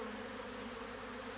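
A swarm of honeybees in an apiary gives a steady, soft, even buzz throughout the short moment, with no talk over it.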